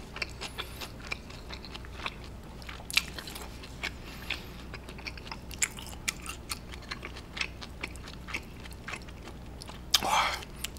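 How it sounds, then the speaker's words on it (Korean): Close, quiet chewing and biting of boiled pork wrapped with kimchi during a Korean mukbang, with soft wet crunches and smacks repeating steadily throughout and a louder crunchy bite near the end, no talking. "김치랑 쌈 싸먹으니까 진짜 맛있어"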